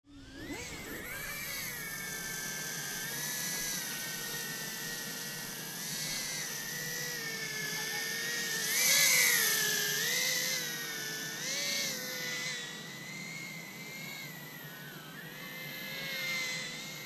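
A Jumper X68S brushless tiny whoop drone flies by line of sight, its steady high-pitched whine of small motors shifting in pitch as it maneuvers, swelling louder around the middle, with no talking.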